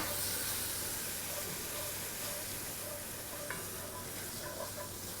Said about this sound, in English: And we're cooking the curry